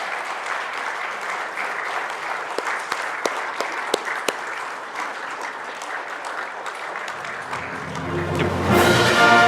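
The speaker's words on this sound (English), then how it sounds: "give a thunderous round of applause" An award-hall audience applauds steadily for several seconds, broad sustained clapping with a few sharper individual claps, before music swells at the end.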